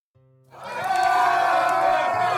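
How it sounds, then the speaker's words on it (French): A tightly packed crowd on a Bruges street at dawn starts with a low murmur, then quickly swells into loud, sustained shouting and cheering from many voices. "Une foule serrée bourdonne, puis hurle"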